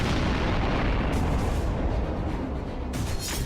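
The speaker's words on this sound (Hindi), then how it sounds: "धमाकों का शोर" Wartime explosions and artillery: a dense, continuous roar of heavy rumbling blasts, loud and sustained, with a few sharper bursts standing out near the end.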